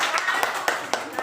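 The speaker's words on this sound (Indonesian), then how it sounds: "tepuk tangan dulu." A class of children claps hands together in a few quick, sharp bursts spaced at a steady beat, close and fairly loud in a classroom, with voices mixed in.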